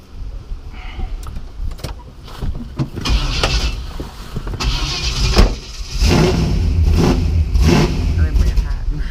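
A Chevrolet Chevelle fitted with Stainless Works exhaust cranks, then fires up and revs into a loud, rumbling idle, with clicks and keys early on and people talking nearby.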